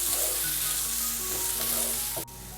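Tomatoes sauté with ginger garlic paste in a pan under a steady, even sizzle, with faint tonal hum underneath and a brief dip near the end, no voices.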